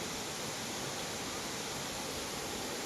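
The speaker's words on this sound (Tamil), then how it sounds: "ரிஷிகேஷ்க்கும் சிவபூரிக்கும் நடுவில் இருக்கின்ற ஒரு அற்புதமான நீர்வீழ்ச்சி" Neer Garh waterfall near Rishikesh in Uttarakhand pours in a steady, even rush of falling water, a dense unbroken roar heard alone at moderate level.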